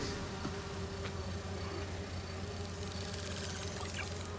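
Bee wolves buzz in Spider-Man 2, a steady insect drone over a constant low game hum, with occasional faint ticks and a hiss that brightens toward the end.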